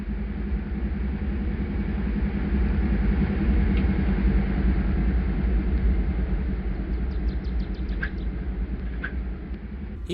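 Diesel locomotive engine in Microsoft Train Simulator, a low, steady rumbling drone with a throbbing idle, continuous and fairly loud, with faint chirps near the end and no talking.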